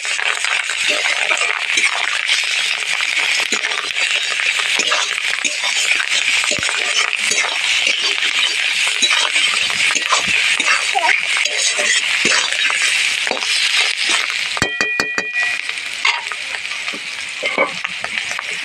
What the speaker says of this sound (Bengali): ভালোভাবে নাড়াচাড়া দিয়ে দেবো।